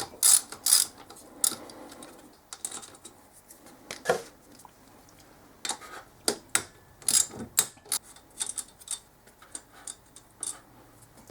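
A ratchet wrench loosening the 10mm cylinder head nuts on a pit bike engine during a piston change, sharp clicking ratchet bursts in short irregular runs, close and fairly loud against a quiet background.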